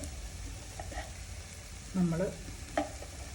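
Coriander powder and spices sautéing in a pan give a low, steady sizzle with a couple of soft stirring scrapes, while a voice speaks briefly over it.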